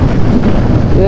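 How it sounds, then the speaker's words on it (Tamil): Thunder rumbles low and heavy through steady pouring rain outdoors at Kallar, a brief loud roll with rain hiss throughout. "பிளாக் தண்டர்ப்பா."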